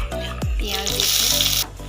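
Chopped onions drop into hot oil with a curry leaf for a spicy bitter gourd and potato fry, giving a brief close sizzle that swells to a steady bright hiss and then cuts off.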